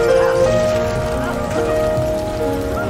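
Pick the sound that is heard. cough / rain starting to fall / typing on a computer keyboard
rain starting to fall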